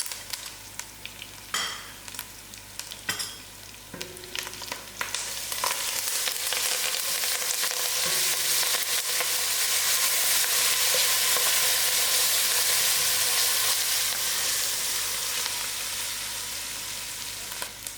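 Curry leaves, thyme and ginger-garlic paste hit hot oil in a pan for broad beans curry, starting with a few clatters and stirs, then swelling into a loud, steady sizzle that holds and slowly eases near the end.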